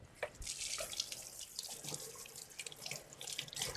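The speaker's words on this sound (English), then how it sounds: "Okay, I'm going to rinse this." Water streams from a kitchen sink tap as something is rinsed under it while onion cream is being prepared. The spatter is soft and steady with a few brief clinks, and nobody speaks.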